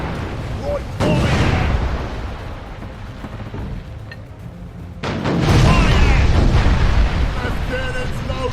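Cannon broadsides from a sailing warship in the naval battle game Furious Seas, two heavy booming volleys with rumbling tails, a player talking between them.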